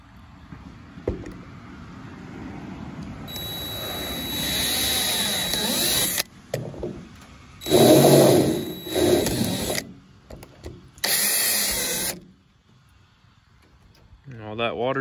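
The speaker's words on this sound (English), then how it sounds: "Just gotta drill some holes in there" A power drill bores holes into a truck flatbed during a custom build, whining in three separate bursts of a few seconds each, separated by quieter pauses with shop noise.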